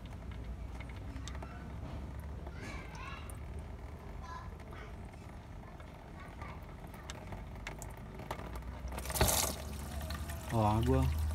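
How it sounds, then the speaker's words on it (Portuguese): Water drips and trickles from the melted engine of a car, a steady liquid patter close by with a louder gush near the end; a voice talks over it. "Olha, já começa a pingar água."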